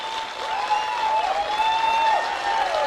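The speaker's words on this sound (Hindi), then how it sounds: "एक जोरदार तालियां मलिक सर के लिए जरूर बजे" A sustained round of clapping from a crowd, steady and fairly loud throughout, with some whistling or cheering tones riding over it.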